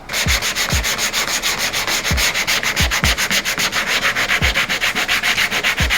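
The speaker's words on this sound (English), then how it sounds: "I got a flexible sanding block with a piece of 80 grit," Rhythmic hand sanding of a car fender with a flexible block and 80-grit paper, brisk back-and-forth rasping strokes repeating steadily, close up, with occasional low thumps.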